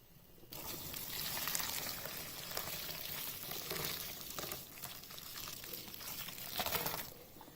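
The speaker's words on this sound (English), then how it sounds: "And so I'm adding the hot water now." Hot water is poured into a bowl of synthetic kanekalon hair, a close, fairly quiet trickling splash that swells and eases in waves over several seconds.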